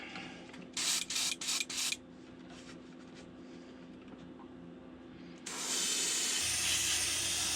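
Short bursts of spray paint hiss onto one side of a jointed glide bait lure being painted in a perch pattern, four quick blasts followed later by a longer steady spray.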